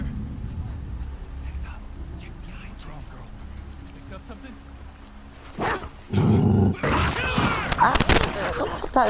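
Several dogs bark and growl in The Last of Us Part 2, rising to loud, harsh bursts in the last few seconds after a quieter stretch under game noise and a talking voice.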